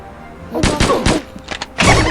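Gunfire from a VR monster-shooting video game comes in several sharp bursts of shots, loud and close, separated by short pauses.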